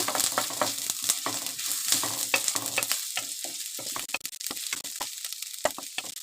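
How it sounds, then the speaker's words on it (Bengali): Chopped onion sizzles and crackles in hot mustard oil while being stirred, with busy popping and scraping that comes in close bursts and pauses, no voices over it. "তেলটা গরম হয়েছে এবার দিয়ে দিলাম পেঁয়াজ কুচি এবার পেঁয়াজ কুচি দুই তিন মিনিট ভালো করে ভেজে নেব"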